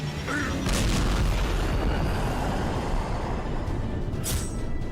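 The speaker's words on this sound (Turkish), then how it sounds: "Oha bomba bomba atıyor bir de." Bombs explode in a Skibidi Toilet zombie-universe animation as a continuous loud rumbling barrage of booms and blasts, dense and heavy throughout, with a sharper burst near the end.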